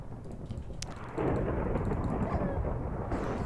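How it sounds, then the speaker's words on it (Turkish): Thunder rolls during a lightning storm in a video game, a low, broad rumble that swells suddenly after a quieter stretch and then holds steady, with a sharp crack early on. "Şimşek çakıyor yavaş."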